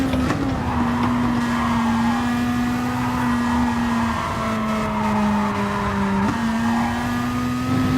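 A racing car engine roars in a racing video game during an FIA Nations Cup race at Kyoto, loud and close throughout with a steady, rising and falling drone, a sharp gear change near the end and a hint of tyre squeal.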